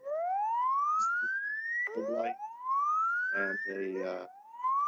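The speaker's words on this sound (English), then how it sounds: "a siren." A ShakeAlert earthquake-warning personal receiver sounds its siren: rising electronic whoops repeat several times, loud and close, with brief bursts of harsher tone between them.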